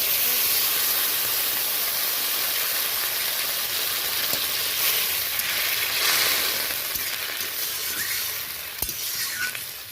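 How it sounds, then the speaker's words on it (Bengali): Hot water is poured into onions frying in a pan, setting off a loud, steady steaming sizzle that hisses on close by for the whole stretch and eases off slightly toward the end. "এই পর্যায়ে আমি অল্প গরম জল দিয়ে দিই, ওই জন্য আমি জল দিয়ে দিলাম।"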